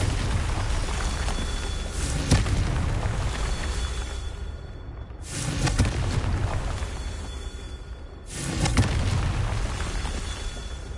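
In the Hogwarts Legacy video game, a Confringo blasting spell sets off booming explosions over a constant loud roar, with two heavy blasts rising out of the rumbling din.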